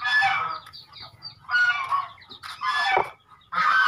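Muscovy ducks on a breeding farm give loud, harsh honking calls in several separate bursts close by, with short quiet gaps between them and no talking.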